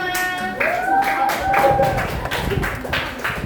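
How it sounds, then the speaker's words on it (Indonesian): A classroom group claps in a short burst of scattered applause, with a few voices murmuring over it. "beri tepuk tangan untuk kelompok 5"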